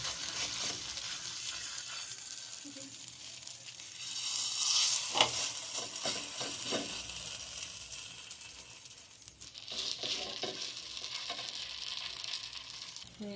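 Palm-fruit patishapta batter fries in a hot pan, giving a steady close sizzle that swells briefly midway and holds on throughout.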